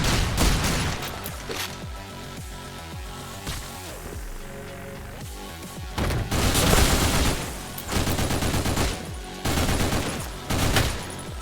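Rapid, dense video game gunfire inside a bloody haunted-manor shooter, with bursts of repeated shots and booms filling the whole stretch, loud and continuous with no talking.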